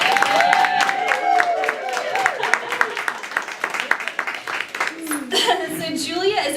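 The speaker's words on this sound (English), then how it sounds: "we should all just clap for Julia generally" An audience at a performance art festival panel claps for Houston performance artist Julia Wallace, with scattered, uneven claps mixed with people talking and laughing close by.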